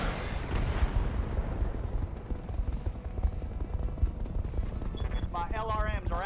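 A mech's missile rack fires in BattleTech, a rapid rattling volley of launches over rumbling battle noise, with a voice speaking briefly at the end.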